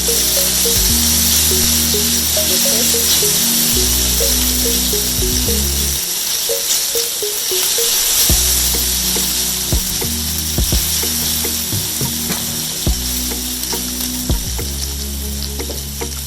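Garlic and tomato paste frying in a pan for okra soup, a loud continuous sizzle with scattered scraping clicks from stirring, briefly dropping away midway before resuming.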